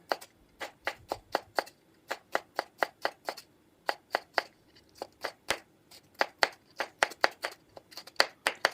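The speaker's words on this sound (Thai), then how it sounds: "เราก็หั่นไปนะคะ" A knife chops steadily through crisp vegetables on a board, sharp close strikes in quick irregular runs with short pauses, no talking.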